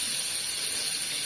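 Fish frying in hot oil in a Bangladeshi village kitchen, a steady close hiss and crackle of sizzling that continues evenly throughout without any talk.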